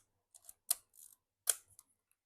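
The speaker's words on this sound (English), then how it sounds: "when you wind the film advance lever and press the shutter button" A Leica M2 film camera's advance lever is wound and its shutter released, giving a quick series of soft ratcheting clicks and a crisp shutter snap, small and close against silence.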